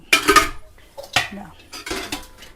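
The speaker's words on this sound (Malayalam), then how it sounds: "ഇത്രയും പാത്രങ്ങൾ എനിക്ക് കഴുകാനുണ്ട്" A pile of dishes being washed in a home kitchen, close clattering of metal pots and utensils in three separate bursts of knocks and scrapes, with quiet gaps between.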